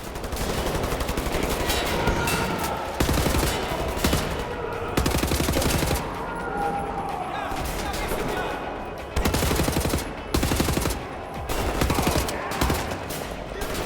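Gunfire in Wolfenstein: The New Order during a prison escape at Eisenwald, repeated loud bursts of shots in clusters with short lulls between them.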